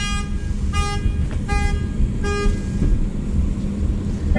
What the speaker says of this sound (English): I was over there when the alarm went off